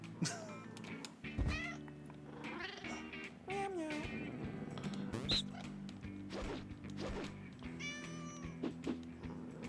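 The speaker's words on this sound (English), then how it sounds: "Oh, it's my kitty!" A cat in the No More Heroes 2: Desperate Struggle game meows repeatedly in drawn-out, wavering calls, loud and close, mixed with a couple of sharp thumps and game background sounds.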